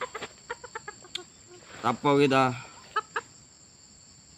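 A rooster of the kokok ngorok type lets out a single hoarse, croaking crow in the middle, close and loud, after some brief clucks, with someone speaking briefly and a steady electronic hum behind.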